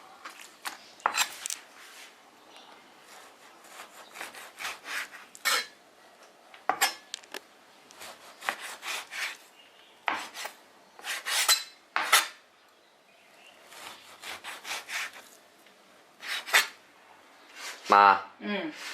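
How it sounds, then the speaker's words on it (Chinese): Pork sliced on a cutting board with a kitchen knife, a scattered series of sharp close knocks and scrapes at an irregular pace, with a person talking briefly near the end. "下面还有这个猪肉，给它切片。"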